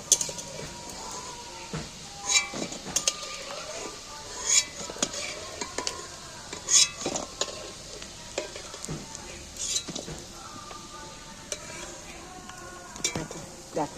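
Fish roe fritters sizzle in hot oil in a pan while a utensil stirs and scrapes, with metallic clinks of cookware striking at irregular moments over the continuous frying hiss.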